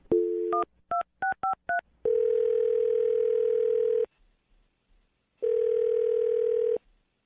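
A telephone call being placed: a quick run of keypad dial tones beeps out the number, then two long, steady ringback tones sound with a silent gap between them, clean and close with no talking.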